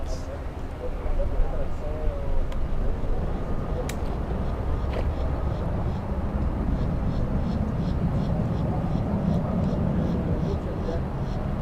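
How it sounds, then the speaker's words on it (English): An American Airlines Boeing 737 MAX 8 makes a go-around at Miami International, its engines a loud, sustained roar that swells steadily, under a voice talking over it. "This is the second attempt for the go around"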